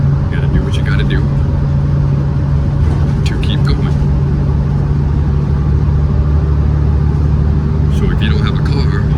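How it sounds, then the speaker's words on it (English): Steady low engine rumble and road hum inside a moving city bus, continuous throughout, with a person talking over it. "right now I'm riding the city bus because my car is in the shop."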